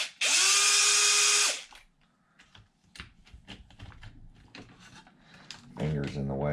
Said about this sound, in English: Loosen the center screw and the 2 bottom screws.